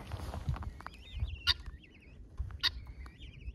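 Guineafowl call in a farmyard, giving sharp, repeated shrieking cries in two bursts over a low background rumble, fairly close and without speech.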